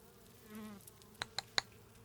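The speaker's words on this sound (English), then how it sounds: "Bugs skitter from the bowl as you lift the seat." Bugs skitter out of a toilet bowl as the seat lifts in the horror game Scarlet Hollow: a faint insect buzz, then three quick sharp clicks in a row, quiet and close.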